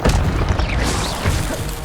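In Hogwarts Legacy, an Incendio fire spell goes off as a short, loud whooshing boom with a dense mechanical rumble underneath, lasting under two seconds.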